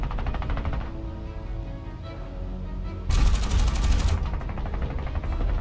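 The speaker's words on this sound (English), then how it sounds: "they unleashed a barrage of gunfire upon the enemy" Rapid machine gun fire from War Thunder World War II aircraft rattles steadily throughout, growing louder and harsher partway through as another burst joins in, with no talking.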